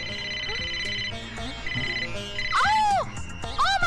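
A new mobile phone plays a melodic electronic ringtone with repeating chirpy, warbling tones, loud and close, with some background sound from a 1999 Hindi film scene.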